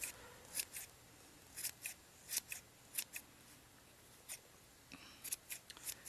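Scissors snip around a handmade yarn pom-pom in a series of sharp, close, crisp cuts, some single and some in quick clusters, with quiet pauses between them.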